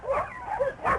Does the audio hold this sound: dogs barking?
yes